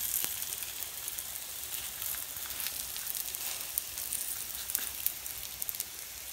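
Msemen flatbread sizzling in oil on a pan, a soft continuous hiss with scattered faint crackles and pops, steady and close with no voices.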